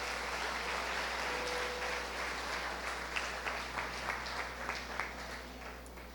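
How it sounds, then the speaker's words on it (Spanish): A church congregation gives a strong round of applause: dense, steady clapping from a sizable crowd, moderately loud and slightly distant, easing off toward the end. "Vamos a darle un fuerte aplauso a Dios."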